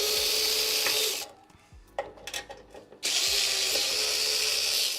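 A power drill driving out M4 screws from a panel on a Skywalker V1 whirs loudly in two sustained bursts, separated by a pause filled with clicks and handling noises, with no talking.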